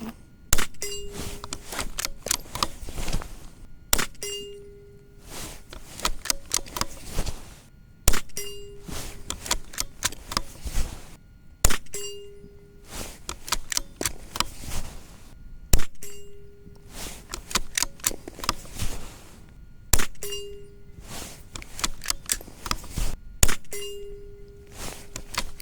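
A .22 rimfire rifle fires ten shots at a 50-yard target, each a sharp, distinct crack spaced a few seconds apart, with some shots landing in quick pairs. Faint ringing trails after several shots, and no one speaks.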